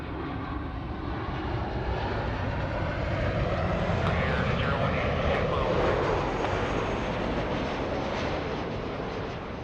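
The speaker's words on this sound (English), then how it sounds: "Back-to-back takeoffs." An airliner takes off at LAX, a loud, continuous jet engine roar that holds steady and swells slightly through the middle.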